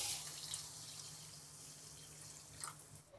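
Water poured into a cooking pot of thin sour curry seasoned with salt and turmeric: a soft, steady running-water wash with a faint splash near the end, quiet and without talk.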